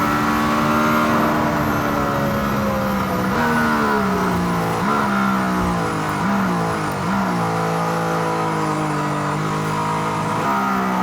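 Mercedes-AMG ONE hypercar accelerating hard with DRS open toward 11,000 rpm, a loud continuous high-revving engine note that climbs in pitch, dips briefly at quick gear changes and rises again, heard from inside the car.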